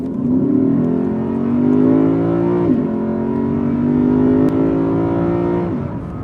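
A 2021 Lexus RC F accelerates hard, its engine note climbing steadily through two gearshifts, loud and close, heard from inside the car with no talking.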